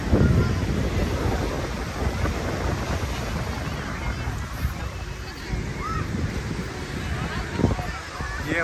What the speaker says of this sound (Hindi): अभी नौरंगा बीच पे हैं।